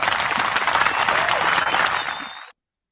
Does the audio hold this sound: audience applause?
yes